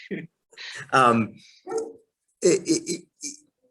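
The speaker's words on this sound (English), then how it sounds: "Sorry about my dog in the background." A dog barks and whines a few times in short bursts between stretches of conversation, moderately close and fairly loud.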